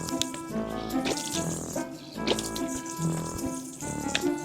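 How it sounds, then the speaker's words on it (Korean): Tap water runs and splashes into a sink while someone washes their face, with a steady stream broken by irregular splashing bursts and drips, close and fairly loud. "이렇게 하고 세수를 한번 해볼게요."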